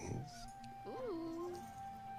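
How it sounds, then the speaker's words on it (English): A small pup in the video game Baldur's Gate 3 lets out a short, rising-and-falling whine, high and tonal, over a steady low game ambience and music drone. "Cheeky little pup."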